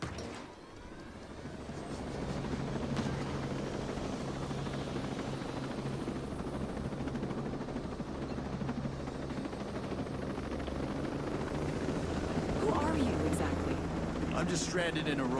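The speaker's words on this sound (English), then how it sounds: "Let's grab this helicopter." Helicopter in the video game Ghost Recon Breakpoint drones steadily with a low, continuous rotor and engine hum, loud and close, holding evenly throughout with a few brief clicks and effects over it.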